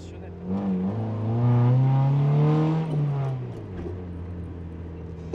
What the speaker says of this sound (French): La première marche arrière d'une Honda Civic avec Alex